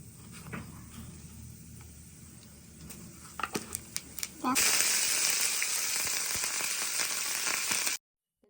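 Urad dal and cumin tempering frying in hot oil for a ridge gourd chutney, with quiet crackles and pops building into a loud, steady sizzle partway through that holds until it cuts off abruptly near the end.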